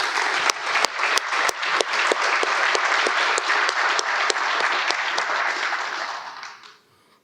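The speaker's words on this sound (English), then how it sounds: "Please give her a round of applause." An audience at an awards ceremony claps steadily, a dense sustained applause with a few sharp louder claps near the start, fading out at the end.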